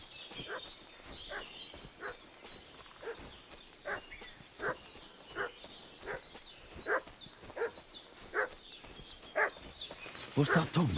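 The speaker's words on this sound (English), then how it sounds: "What's that dog making such a fuss about?" A dog in the video game Kingdom Come: Deliverance II barks and fusses repeatedly in regular bursts roughly a second apart, moderately near, over faint ambient background, growing more intense at the end.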